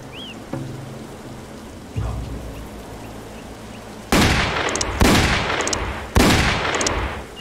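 Gunshots in a Roblox Wild West video game: three loud, sharp blasts spaced about a second apart, each with a ringing tail, following a couple of softer thuds, with no talking.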